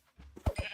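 Sheep in the Minecraft video game bleat in a couple of short, close calls, with a low thump and steady game ambience around them.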